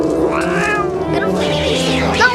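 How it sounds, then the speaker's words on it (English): An angry cat meows and yowls loudly, with long wavering, rising and falling cries that run nearly continuously and close up, with voices mixed in. "what is wrong with this cat? The cat is pissed."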